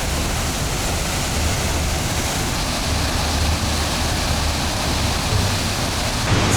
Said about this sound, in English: Enjoy the waterfall. Look at that though, guys.